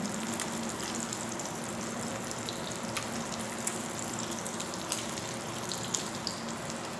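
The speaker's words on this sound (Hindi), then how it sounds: "कबाब डालती हूँ।" Chicken shami kababs fry in a pan with an even, steady sizzle and crackle, close and moderate, a few faint clicks and taps over it.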